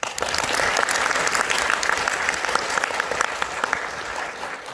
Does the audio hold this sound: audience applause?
yes